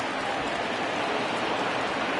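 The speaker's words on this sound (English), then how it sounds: "But the rain coming down as it is, we are in for a long delay." Steady rain pours down on a ballpark in MLB The Show 20, a continuous broadband hiss with no distinct drops, heard alone and at an even level.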